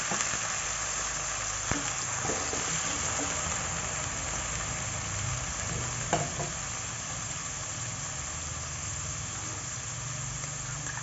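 Tofu frying in a pan with a little water after garlic, a steady soft sizzle with occasional stirring clicks over a constant low background hum.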